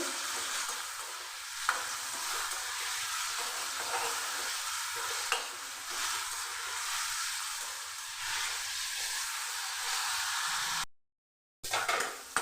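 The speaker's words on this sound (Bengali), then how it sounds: "বেগুন ভেজে নেব" Brinjal (eggplant) slices salted and seasoned with turmeric fry in mustard oil in a wok, giving a steady close sizzle with occasional stirring scrapes, broken by a brief silent gap near the end.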